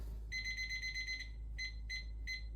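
A kitchen oven timer beeps as it is set, one long steady tone followed by three short beeps, clear and close over a low appliance hum.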